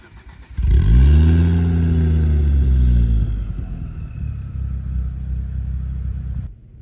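A car engine cranks and catches, revving up with a loud rising roar and then settling into a steady, rumbling idle that runs for several seconds before cutting off.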